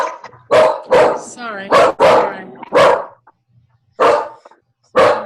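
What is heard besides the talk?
dogs barking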